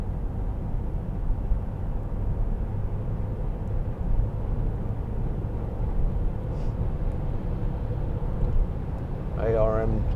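A 2008 BMW 320i M Sport 2.0 petrol engine accelerating on the road behind a van, a steady low drone with road and wind noise throughout, and a brief voice near the end.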